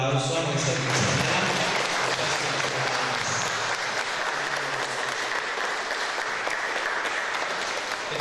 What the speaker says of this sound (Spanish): Vamos a dar otro fuerte aplauso a nuestra compañera.